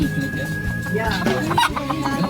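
A pet chicken clucks after laying an egg, a short run of close, fairly loud calls over a steady background with faint voices around it.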